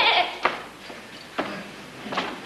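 A voice imitates a goat's bleat in three short, wavering cries spaced apart, fairly close and moderately loud over a quiet background, as part of a Ukrainian nativity folk play in Kirovohrad.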